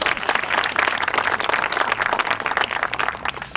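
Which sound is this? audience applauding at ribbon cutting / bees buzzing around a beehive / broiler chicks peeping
audience applauding at ribbon cutting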